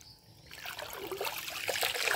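Water trickles and splashes gently onto a taro leaf, a soft, continuous patter that grows slightly louder, heard up close.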